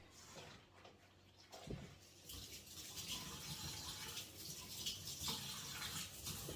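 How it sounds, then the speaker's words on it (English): Hands rinsed under a running kitchen tap while making spaghetti sauce and meatballs: a faint, steady rush of water that grows fuller after a brief clunk, with no speech. "let me rinse my hands real quick"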